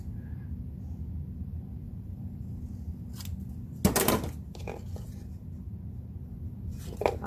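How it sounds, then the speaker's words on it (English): A few crisp snips and rustles of scissors cutting paper, with one louder cut and softer follow-up snips, close by over a steady low background hum. "I'm just gonna use my scissors"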